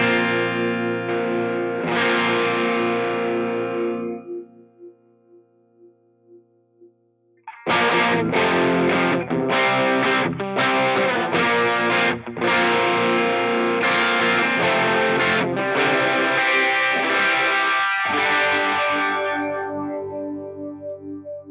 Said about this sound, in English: let's make sure snapshot 1 has the distortion on